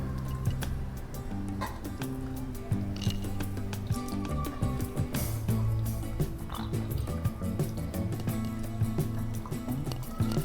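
Raw potato slices are swirled by hand in a vessel of water with alum, giving continuous sloshing, dripping and squishy splashes close up with an irregular rhythm.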